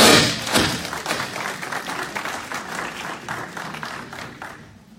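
Audience at a health department monthly meeting breaks into sustained applause, a dense wash of many hands clapping for several seconds before gradually thinning and fading out.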